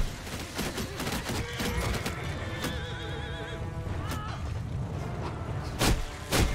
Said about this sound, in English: Yeah, you guys just ride straight into my flames.